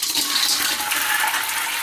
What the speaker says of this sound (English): we're just going to drain off that water